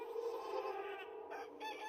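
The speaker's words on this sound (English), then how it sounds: "I like how it made a chicken noise." Chicken in the video game Morrowind clucking and squawking a few times over a steady game background hum, fairly close and moderately loud.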